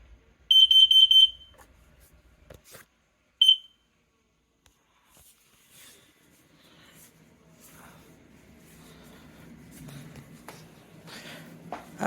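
A smoke alarm chirps during a weekly test: a loud high beeping burst near the start and a second short beep a few seconds later, followed by quiet room noise and faint rustling.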